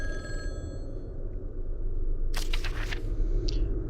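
A telephone rings in The Lost Crown ghost-hunting adventure game, with clear bursts of ringing over a steady low rumble. A single click is heard earlier.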